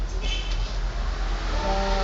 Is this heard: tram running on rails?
yes